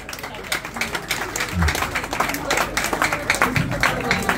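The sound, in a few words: crowd applause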